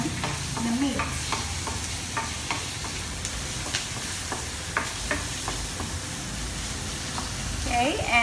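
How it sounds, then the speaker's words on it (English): Spices and aromatics sauté in a pan for an eggplant curry, giving a steady close sizzle with repeated stirring scrapes throughout and a brief clatter near the end. "just saute it enough for the flavors to come out before you put in the meat"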